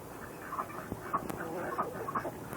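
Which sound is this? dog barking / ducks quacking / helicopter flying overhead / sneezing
ducks quacking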